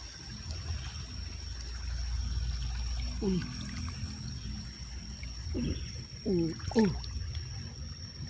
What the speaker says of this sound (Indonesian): Aduh, awas, sungai sangat deras nih sungai.